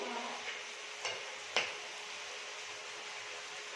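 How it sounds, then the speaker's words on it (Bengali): Chicken frying in a pan gets stirred, a steady low sizzle with a couple of short utensil scrapes and clinks near the start, faint and close. "তারপরে আমি এখানে নাড়াচাড়া করি"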